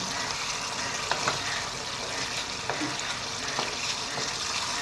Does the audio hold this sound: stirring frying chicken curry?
yes